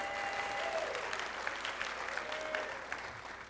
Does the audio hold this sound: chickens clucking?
no